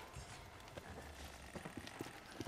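Quiet, rapid hoofbeats clatter at a distance over a dense background wash, a horse running in steady rhythm without any voices, in the video game Days Gone.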